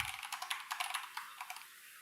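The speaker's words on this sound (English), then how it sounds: "I'll have to do a little bit of typing also" Someone types code on a computer keyboard, producing a quick irregular run of crisp key clicks at moderate volume that slows and thins toward the end, with no talking.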